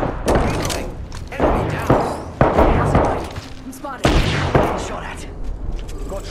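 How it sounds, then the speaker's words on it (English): A thermite grenade thrown and exploding amid a firefight in a shooter video game, with repeated heavy blasts and gunfire bursts at close range, loud and punchy, while voices shout over the action. "Eat thermite! Grenade out!"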